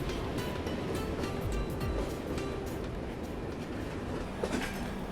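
A Rajdhani Express train crossing the old Tata Steel railway bridge over the Kharkai river, a steady loud rumble and rattle heard from on board, with faint rhythmic clatter throughout.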